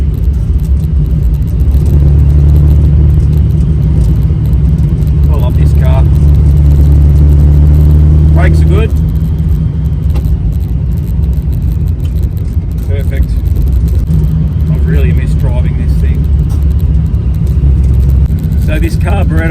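A carburetted Holden Torana engine idles loudly nearby with a steady low rumble, and its revs rise and fall in a few brief blips; a person talks over the engine noise.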